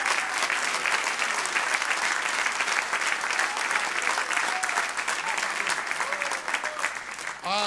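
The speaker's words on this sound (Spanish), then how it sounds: "Denle un aplauso con ganas" A church congregation breaks into loud, dense applause that fills the room continuously for several seconds, with faint voices mixed in and a bit of crowd noise near the end.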